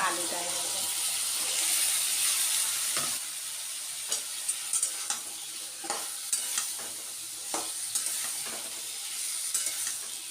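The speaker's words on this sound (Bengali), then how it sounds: "এখন আমি ফ্লেমটাকে বাড়িয়ে দিয়ে এখন এটাকে ভালো করে এটাকে ভেজে নেব মাছের তেলটাকে" Catla fish fat frying with chopped onions in a pan over a high flame, a loud continuous sizzle and hiss joined by scraping stirring clatter, while someone talks over it.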